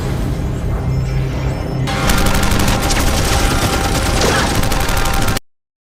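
Gunfire in a film as a man shoots officers: a dense, loud rapid-fire rattle of shots continuing for several seconds over a rumbling soundtrack, then cutting off abruptly.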